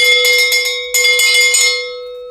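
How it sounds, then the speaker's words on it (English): A bright metallic bell rings in two quick rounds of rapid, loud clanging, close to the mic, with a long ringing tail, on a live shopping stream announcing a product discount. "Y'all know what that bell means. That means that we have some product that is on discount."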